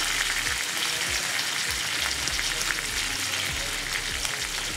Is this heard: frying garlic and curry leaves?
yes